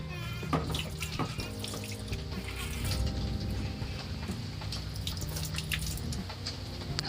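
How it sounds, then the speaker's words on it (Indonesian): Water pours and splashes steadily from a tap or scoop while a young monkey is bathed, with scattered drips and small knocks, moderately close and fairly quiet throughout. "Nah untuk memandikannya ini pelan-pelan saja, jangan terlalu kasar atau apa gitu, disiram."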